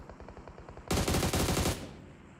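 Gunfire in a PUBG Mobile Global Championship match, a close, loud burst of rapid automatic shots lasting about a second, following faint scattered shots and fading into quiet afterward.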